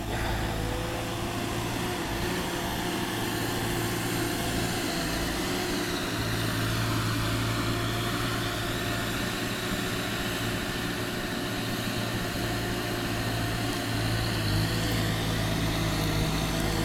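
Perkins diesel engine of an ASV RC 60 tracked skid steer idling steadily, a loud, continuous low rumble with a constant droning hum running unchanged throughout, no talk over it.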